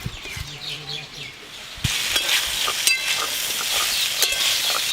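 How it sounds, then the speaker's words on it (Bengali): Mixed vegetables fry and get stirred in a pan, starting with a soft scraping and a thud, then a louder, steady sizzle with scattered crackles, close by. "মিক্স ভেজের জন্য সব সবজি ভালো করে ভেজে নেব"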